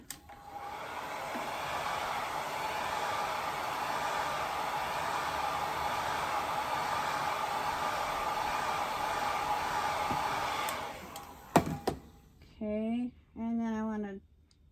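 A hair dryer dries a watercolor painting, blowing a loud, steady close-up whoosh for about eleven seconds before it clicks off, then someone speaks briefly.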